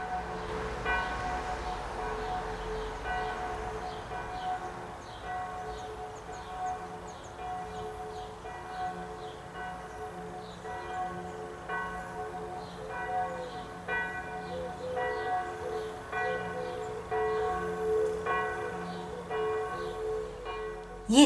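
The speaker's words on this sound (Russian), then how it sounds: "колокола на нашей церкви?" Church bells ring in a steady, repeated pattern across a summer day outdoors, moderately distant and continuous throughout, with no talk over them.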